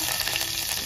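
Curry leaves sizzle in hot oil with mustard seeds and cumin. The crackle is close, loud and continuous, with no other sound over it.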